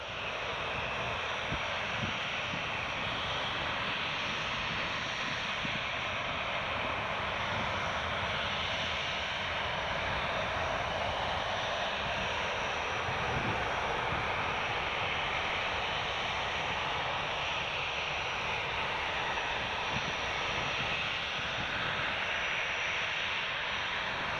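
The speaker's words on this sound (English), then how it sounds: "got Ryanair 737 on final, coming in from Alicante" A Ryanair Boeing 737 on final approach into Newcastle Airport gives a continuous, loud broadband jet roar that holds steady throughout, with no speech.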